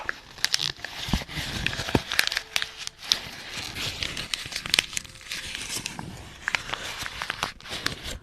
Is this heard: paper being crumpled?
yes